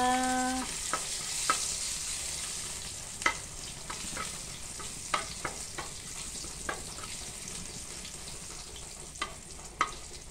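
Ginger and garlic sauté in a small amount of cooking oil, a soft steady sizzle broken by irregular sharp clicks and scrapes of a spatula against the pan, no voices.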